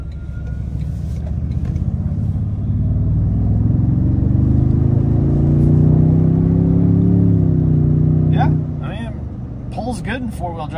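A 2023 Toyota Tundra TRD Pro pickup accelerates hard through a turn, its engine rumble swelling and rising in pitch for several seconds before easing off, followed by a person talking.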